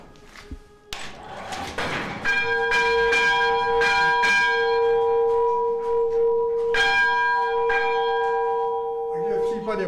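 A restored church bell hung in a new belfry is struck repeatedly, each loud metallic clang ringing on with a long resonant hum, preceded by a few knocks and clatters of the mechanism.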